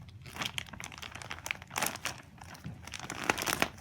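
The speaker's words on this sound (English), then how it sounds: "so in the bag, just cut this open really quick." A plastic parts bag from a Traxxas Slash 4x4 box crinkles and crackles up close as it is cut open, with irregular rustling bursts throughout.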